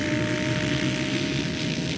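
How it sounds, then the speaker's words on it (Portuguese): Motocross motorcycles at a velocross race start gate hold a steady, dense engine roar throughout, loud and continuous with no talking. "Aumenta o giro dos motores a partir de agora"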